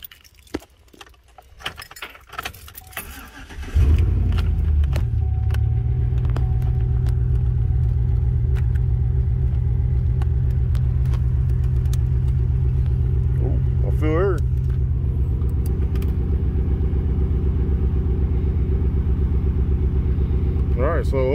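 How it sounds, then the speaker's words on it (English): A 2007 Chevy Silverado 1500 pickup starts after a few seconds of handling noise, then settles into a steady, close engine run with the AC blower motor humming continuously underneath. "we're gonna turn the truck on, see if the air works now"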